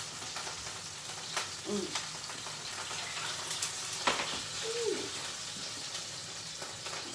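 Grease sizzles and crackles in a pan on a stovetop while cooking with tomato sauce for pizza, with sharp irregular pops over a steady low hiss at moderate distance.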